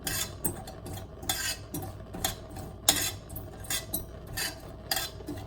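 Ajwain seeds are roasted in a pan and stirred with a metal utensil, giving repeated close scraping and clinking strokes over a faint sizzle.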